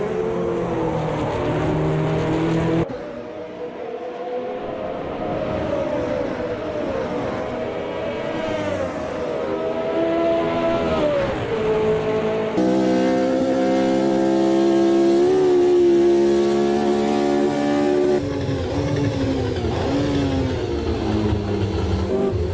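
A Brabham race car laps the Bathurst circuit, its engine loud and close throughout. The pitch climbs and falls repeatedly through the gear changes, with no talk over it.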